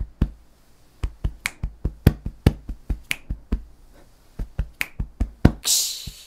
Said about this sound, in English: this is the kick, and this is the snare, and this is the tom